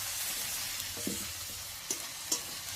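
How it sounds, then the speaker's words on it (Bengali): Ginger and garlic paste frying in oil for a chicken kofta gravy gives a dense, even hiss with a few soft clicks of a utensil, close and with no voices. "এইবার আমি আদাটা রসুনটা একটু ভেজে নেব যাতে কাঁচা গন্ধটা চলে যায়"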